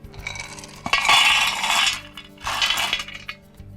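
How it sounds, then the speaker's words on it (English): Gravel drainage pebbles poured into the base of a garden container pot, heard as two close, rattling cascades of stones, each about a second long, separated by a short pause. "So in goes the drainage pebbles, which is just some gravel at the base of the pot."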